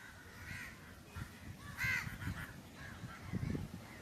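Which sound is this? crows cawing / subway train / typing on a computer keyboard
crows cawing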